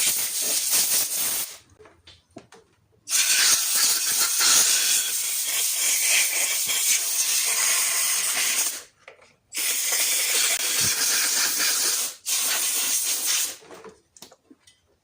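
Compressed air blasts off an air compressor head being cleaned, a loud, close, steady hiss in several long bursts separated by short pauses.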